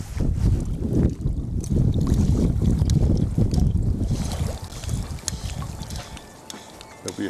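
A strong gale buffets the microphone during fly fishing at Lake Eucumbene. The wind makes a loud, low, rumbling roar that eases somewhat toward the end.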